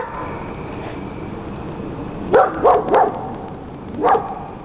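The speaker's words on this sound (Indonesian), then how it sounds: "dikarenakan anjingnya selalu menggonggong" A dog barks in a backyard at night, with three quick barks and then one more after a pause, heard at moderate distance over a steady background hiss.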